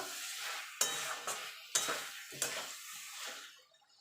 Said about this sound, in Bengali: হাফ চামচ ধনের গুঁড়ো আর হাফ চামচ জিরের গুঁড়ো। এই মশলাগুলো ভালো করে কষিয়ে নেব।